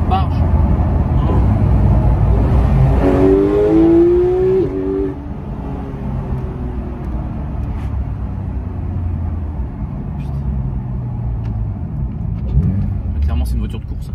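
A race car engine revs hard and close, climbing in a rising whine before settling back into a deep, steady rumble, with voices talking over it.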